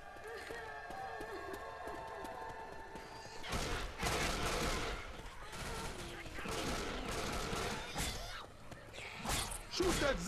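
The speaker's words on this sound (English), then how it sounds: "Shoot that zombie in the back." Rapid gunfire and bursts of shooting at zombies in the video game Left 4 Dead 2, loud and dense, with crashing impacts and players talking over the action.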